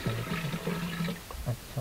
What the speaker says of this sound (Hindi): है पांच 5 लीटर पानी डाल दिया है आपके सामने।